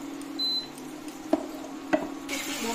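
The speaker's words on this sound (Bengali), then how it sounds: "এটাকে নাড়ছি, ঘন ঘন নাড়তে হবে, কারণ কত নিচে যাতে লেগে না যায়" A spoon stirs chicken zafrani tikka in a pan over steady sizzling, with two distinct scrapes against the pan bottom, close-up and without speech.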